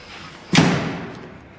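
A remote-controlled solenoid pops open the driver's door of a 1928 Dodge rat rod with a single sharp thump, followed by a brief decaying rattle, close by.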